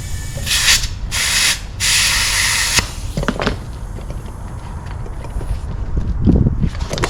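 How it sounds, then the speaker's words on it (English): Compressed air hisses in bursts into an airplane's landing gear tire, three loud spurts in the first few seconds, then quieter handling clatter and faint background noise. "we're going to go ahead and put some air in the tire"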